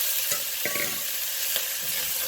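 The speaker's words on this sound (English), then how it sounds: "I'm going to saute." Chopped potatoes and carrots sauté with toasted rice in a pot for one-pot chicken and rice, producing a dense, close, steady sizzling hiss with a few soft spoon scrapes and clicks, no speech.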